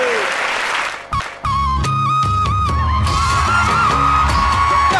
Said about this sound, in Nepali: सबैजना मिलेर रामभक्त जोशीज्यूको लागि जोरदार ताली बजाइदिनुहोस्